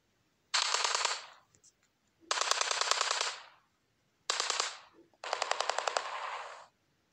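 Four long bursts of rapid automatic gunfire in a Standoff-style mobile shooter game, with short pauses between them, each rattling loudly and then fading out.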